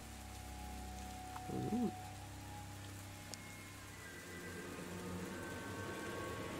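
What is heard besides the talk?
rain pattering down on the deck of a boat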